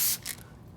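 Two short hissing bursts of a trigger sprayer misting O&R pre-soak cleaner onto a dirty motorcycle, the first loud and close, the second briefly following, then a quiet low background with no talk.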